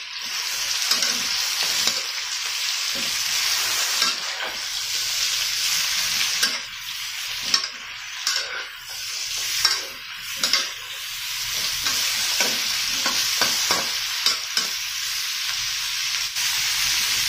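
String beans (sitaw) stir-frying in a pan for pork adobo make a steady, close sizzle and hiss, broken by scraping stirs and brief clatters of the utensil against the pan.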